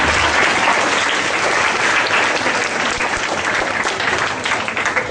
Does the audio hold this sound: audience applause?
yes